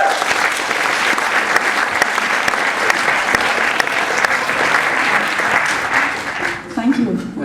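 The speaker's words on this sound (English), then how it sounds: "please a warm applause for Lizá and Artur" A warm round of audience applause welcoming two lecturers at an event, loud dense clapping that holds steady for several seconds before fading as a voice begins.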